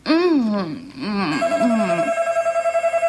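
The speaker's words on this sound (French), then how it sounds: "mais mon téléphone sonne" A mobile phone rings after someone speaks, its electronic tone pulsing in a quick, even trill that carries on alone until the end.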